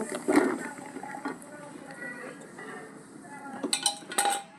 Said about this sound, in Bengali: ঝোলে জাল উঠলেই আমি লাউ দিয়ে দেব